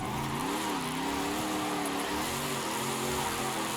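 A widebody drift wagon's engine revs steadily in the Forza racing game, the pitch rising and falling as the car is pushed sideways through a drift, sounding close and continuous.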